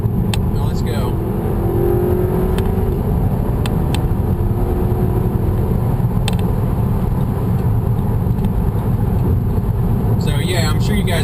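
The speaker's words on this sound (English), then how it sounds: "That was acceleration through a couple of gears" A 2011 Audi A3 accelerating from third gear at about 60 mph gives a continuous loud engine and road roar heard from inside the cabin, with brief shifts and a few clicks breaking the steady noise.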